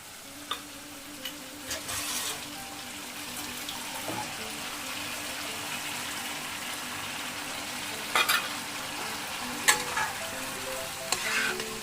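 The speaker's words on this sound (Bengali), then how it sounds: "দিয়ে আবারও আমি নাড়ব" Mutton rezala sizzles and fries in a pan over a high flame. A steady loud crackle runs throughout, broken by scraping stirring strokes and a few sharp clinks of the utensil against the pan.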